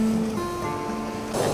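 Sea waves wash onto the shore at Yalta in a brief, close burst of rushing water near the end, over a steady background hum.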